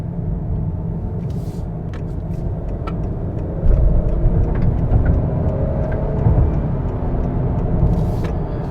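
A 2020 Honda Accord Sport with its 2.0-liter turbocharged four-cylinder pulls out to pass a slow bus, the engine rumble swelling loudly as it accelerates and then holding over steady road noise inside the cabin.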